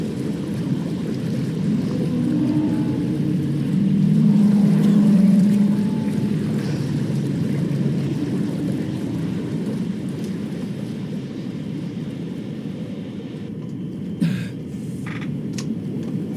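Wreckage of a crashed plane sinks into the ocean in Bioshock, a steady low rumbling wash of churning water and groaning metal that swells midway, then settles, with a couple of brief sharp clanks near the end.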